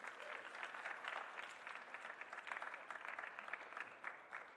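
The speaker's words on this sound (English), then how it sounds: "I think that deserves another round of applause," Applause from the audience at a moot court competition's closing ceremony: steady, moderately distant clapping that holds level throughout without a break.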